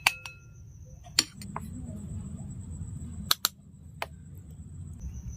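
A spoon clinks against oiled bowls as semolina milk cake batter is spooned in: a few sharp, bright clinks spread over several seconds above a low, steady room hum.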